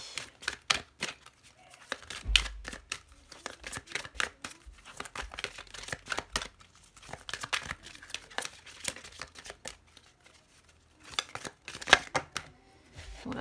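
Oracle cards being shuffled by hand, a quiet run of soft, irregular papery riffles and taps with short pauses, close by and with no talking.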